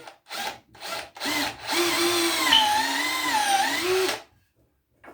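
A power drill bores a peg hole through the wooden rocker of a handmade rocking chair: a few short bursts, then a steady close whine for about three seconds that stops when the bit breaks through.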